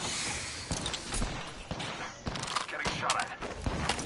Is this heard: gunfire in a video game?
yes